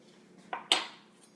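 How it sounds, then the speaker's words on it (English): A spoon works around the inside edge of an avocado skin, scooping out the flesh with two quick scraping clicks, the second louder and ringing briefly, in an otherwise quiet room. "very carefully just work your spoon around the outside edges, making sure it stays in contact with those outside edges"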